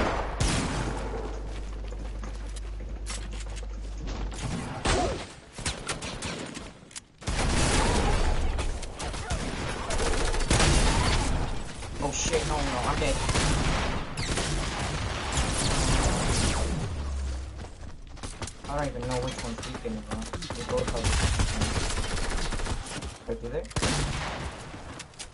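Desert Eagle and other gunfire in Fortnite, bursts of shots and crashing impacts throughout, with a player's voice talking over the action.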